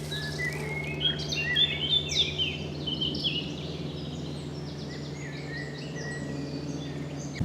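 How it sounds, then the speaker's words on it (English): Several birds sing and chirp in a wood on a summer walk near Cholsey and Goring, bright twittering phrases scattered over a steady low background hum, moderately distant. "Plethora of birdsong."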